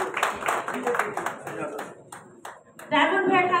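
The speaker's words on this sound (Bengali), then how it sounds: "ডায়মন্ড ভাইয়ের জন্য জোরে একটি করতালি চাই আমি।" Audience clapping at the TRAB Media Iconic Award 2025 ceremony, a scattered burst of claps that thins out, then swells again, loud and close, mixed with crowd chatter.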